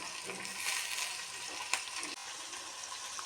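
Crushed garlic, curry leaves and tomato frying in oil in a cooking pot, a soft steady sizzle with faint stirring and one brief clink, fairly quiet with no talk.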